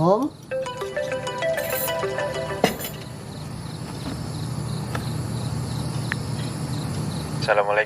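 A phone ringtone plays as Papa calls: a short, bright melodic ring of stepped tones that stops after about two seconds, followed by quiet room noise and faint movement.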